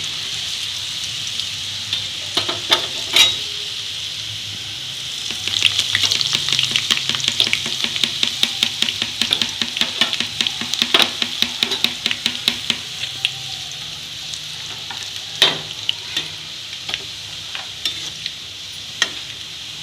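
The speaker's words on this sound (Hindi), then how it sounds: "तो अब यहाँ पे ये हमारी बन चली है मीठी वाली इमली वाली सौंठ" Sweet tamarind chutney (saunth) cooking in a pan, a steady bubbling sizzle with rapid rhythmic clatter of a spoon stirring against the pan, close and fairly loud, with brief pauses.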